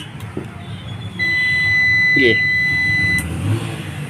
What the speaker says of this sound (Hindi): बजर भी साउंड किया